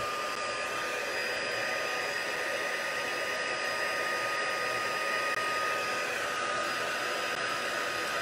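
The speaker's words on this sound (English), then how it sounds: "And now it's time to heat that embossing powder." A heat tool blows hard and steadily over embossing powder on a papercraft gift box made from a single 12-inch patterned paper sheet, a loud constant hair-dryer-like whoosh held close and unbroken throughout.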